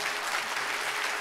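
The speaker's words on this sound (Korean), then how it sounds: "우리 하나님께 감사와 영광의 박수 한번 올려드릴까요?" A church congregation at a Sunday worship service breaks into steady, dense applause, a warm wash of many clapping hands filling the room without pause.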